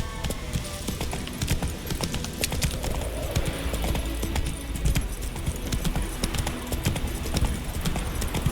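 Roach, Geralt's horse in The Witcher 3, trots along with a fast, steady clip-clop of hooves, loud and close, with jingling tack and game ambience behind it and no talk.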